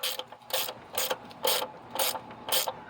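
Ratchet with a socket and extension turning 10mm bolts on a cover of a 2007 Mitsubishi Eclipse Spyder GT, six evenly spaced bursts of rapid clicking, close and fairly quiet, with no voices.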